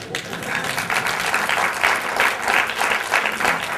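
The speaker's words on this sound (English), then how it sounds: "I can listen all of them clapping" Audience applauding: a dense, sustained wash of many hands clapping at steady volume with slight swells, no voices on top.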